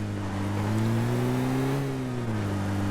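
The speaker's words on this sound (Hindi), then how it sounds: "पर मुझे आई बगी की आवाज़ पीछे से" A steady buggy engine drone in a video game hums continuously, its pitch rising slightly and then easing back down, like a vehicle motor running close by.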